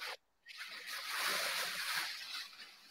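Water sprayed from a hand spray bottle during a live painting performance, a broad hissing burst that starts after a brief silence and sustains steadily at moderate level before tapering slightly.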